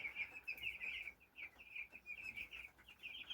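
Chicks chirp in a clean, dry, warm coop, a steady run of high peeping calls close by with no voices.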